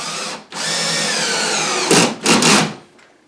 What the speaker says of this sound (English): We're going to get these other screws screwed in just to hold the board.